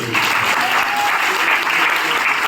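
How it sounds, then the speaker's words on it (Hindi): An audience bursts into loud, sustained applause at a motivational talk, steady clapping filling the space with no break. "एक बार जबरदस्त तालियां"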